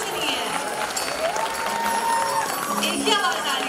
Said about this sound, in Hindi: अपने लिए जोरदार ताली बजा दो सब कोई